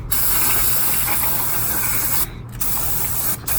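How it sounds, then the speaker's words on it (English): A loud, steady aerosol spray hisses close by on brake parts of a Mk5 car, cutting out briefly twice with short pauses before resuming. "Give them a good spray."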